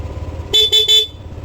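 Three short, bright honks from a motorcycle's stock horn, evenly spaced and close, over a low idling engine.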